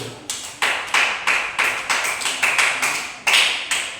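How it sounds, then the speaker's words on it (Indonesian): A small group claps in a loose, uneven rhythm, a series of sharp bright claps with short gaps between bursts. "tepuk tangan untuk kelompok 1"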